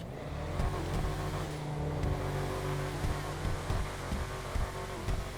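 An SUV engine in GTA 5 Online idles with a deep, steady rumble, rising in short revs and settling back, loud and close with no talk.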